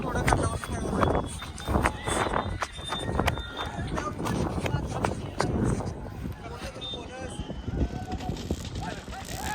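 Running hooves of bullocks pound rapidly during a bullock cart race, over a busy outdoor din, with cart rattling and crowd noise throughout.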